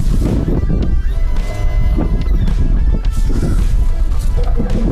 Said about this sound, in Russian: поэтому я на всякий случай заведу мотор